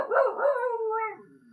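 A dog nearby lets out a single drawn-out howl that starts with a rough bark-like onset and then slides downward, loud and clear with no talk over it.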